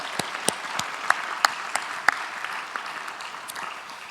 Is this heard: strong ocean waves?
no